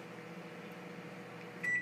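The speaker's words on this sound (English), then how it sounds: "Okay, 1 minute in the microwave." A microwave oven hums steadily as it heats a hard-boiled egg in a bowl, a low constant drone with a faint tone ending in a short higher beep-like whine.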